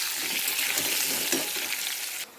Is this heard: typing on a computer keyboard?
no